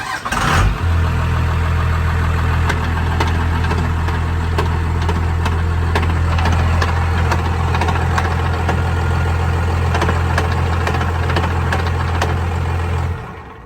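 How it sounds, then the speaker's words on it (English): A Cummins-powered truck idles with its damaged transmission in neutral and missing main shaft gears, producing a loud, steady low drone with continuous rattling, clattering knocks layered on top before the engine note fades at the end. "this is what the transmission, or the transmission sounds like"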